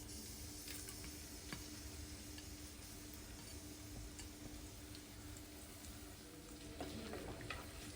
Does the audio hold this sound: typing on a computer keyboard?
no